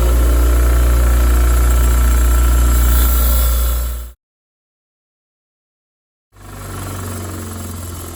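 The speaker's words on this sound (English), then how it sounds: "just heading back out to the wire wheel to clean up these crusty wire stays" A bench-mounted wire wheel scrubs crusty wire stays from a vintage Honda CB350 motorcycle, a loud steady whirring grind that cuts out for about two seconds and then spins back up.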